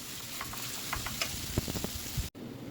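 Okra frying in a pan as bhindi bhaji, a steady close sizzle with scattered pops and spatters and a few scraping stirs, cut by a brief dropout near the end.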